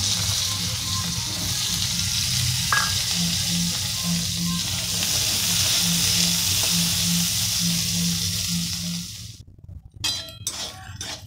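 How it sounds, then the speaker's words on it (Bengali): Boiled potatoes frying in oil in a pan, a steady loud sizzle throughout with occasional clinks of a utensil, ending abruptly with a few brief knocks. "তো এরপর আমি ভেজে নিচ্ছি।"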